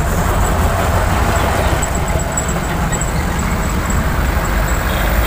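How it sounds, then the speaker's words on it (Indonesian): An old, heavily loaded truck-trailer carrying a Kalmar heavy machine climbs an uphill road, its engine a loud, steady low-pitched drone with grinding rumble throughout. "Truk tua bosku."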